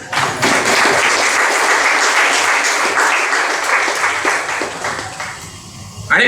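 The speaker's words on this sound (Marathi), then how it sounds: "आपल्या सगळ्यांसाठी आपण टाळ्या वाजवल्या पाहिजे" Audience applause fills a senior citizens day gathering, a dense, steady burst of many hands clapping that holds for several seconds and tapers slightly before a brief swell at the end.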